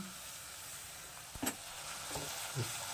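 Fenugreek curry cooking on low heat in a pan, a soft, faint sizzle with a few light knocks and scrapes of a stirring spoon, close by.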